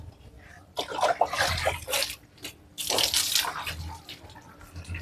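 Water from a modified electric water pump gushing through an outlet pipe in two strong splashing surges separated by a brief lull, close and fairly loud.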